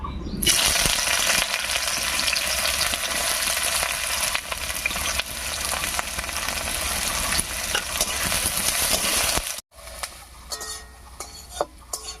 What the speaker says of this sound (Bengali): তেল গরম হয়ে গেছে এবারে তেলের মধ্যে দেবো পেঁয়াজ কুচি